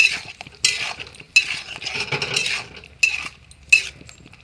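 Onion paste with salt and chili being sautéed, heard as bursts of sizzling and scraping stirs that come in irregular strokes close to the pan, with quieter sizzle between them.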